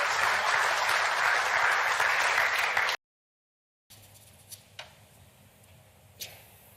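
A crowd applauds at a World Cup of Pool match, with dense loud clapping for about three seconds before a brief silence and then a quieter room with a few sharp knocks.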